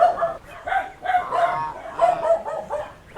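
Poultry on a Philippine farm, brooder chicks and geese, calling in a busy near cluster of overlapping chirps, honks and squawks with no one speaking.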